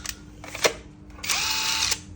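A cordless Makita impact wrench whirs in short bursts, first a quick blip, then a sustained high-pitched run that stops abruptly.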